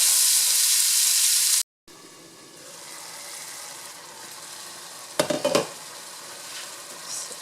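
Onion sautéing in a pan alongside pork and vegetables such as bittermelon, yardlong beans, eggplant and butternut squash, a steady soft sizzle running throughout, broken by a short gap, with a brief burst of louder clattering stirring near the end.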